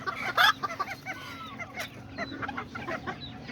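Small Serama and Azteca roosters cluck and call close by in a quick series of short, uneven bursts, the loudest near the start, with soft background noise between the calls.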